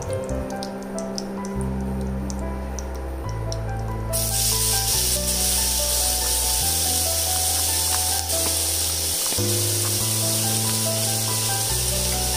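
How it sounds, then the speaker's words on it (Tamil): Onions sizzling in hot oil in a pan while shark puttu is cooked, a steady bright hiss with faint spattering and drips, close and continuous with a low background hum, and no talking. "வெங்காயத்தை ஆட் பண்ணிட்டு இதை நல்லா வதக்கி விடுங்க"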